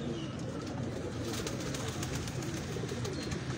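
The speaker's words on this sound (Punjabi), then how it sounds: "ਇਹ ਦੋਵਾਂ ਕਬੂਤਰਾਂ ਦਾ ਫੁੱਲ ਵਿਊ ਵੀ ਦੇਖ ਲਓ" Pigeons cooing in a loft, a soft continuous murmur of low throaty coos, fairly faint and steady with no voices.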